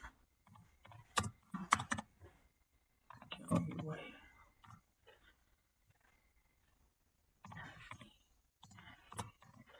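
Computer keyboard typing in bursts of quick clicks, close by and fairly quiet, alternating with someone talking in Hindi and short pauses of near silence.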